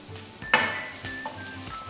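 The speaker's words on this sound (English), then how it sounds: "Add chopped onions." Chopped onions hit hot Saras coconut oil with a sharp hiss, then settle into a steady close sizzle with a few light utensil clinks against the pan.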